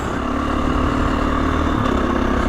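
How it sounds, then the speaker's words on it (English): A KTM off-road motorcycle being ridden green laning on rural tracks, its engine a steady, loud, close drone that runs throughout without a break. "using your bike like I'm doing now, off-roading, green laning for exercise, is within the letter of the law"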